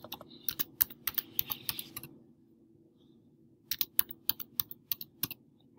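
Password typed on a computer keyboard: two bursts of crisp, close key taps separated by a silent pause of about a second and a half.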